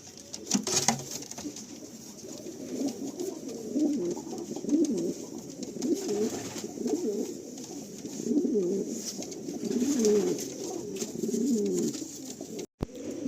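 Low, continuous cooing from a flock of Malwai, Madrasi and Andhra breed pigeons rolls on for several seconds, close and steady, with a few sharp knocks at the start and near the end.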